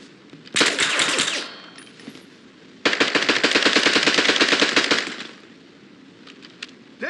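Rapid automatic gunfire in the shooter game James Bond 007: Blood Stone, a burst near 0.5–1.5 s then a longer sustained volley from about 3 to 5 s, loud and close with sparse pops afterward.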